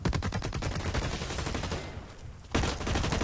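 Rapid gunfire from a first-person shooter match in Blacklight: Retribution, a dense burst of automatic shots that thins briefly before another loud volley erupts, with no talking.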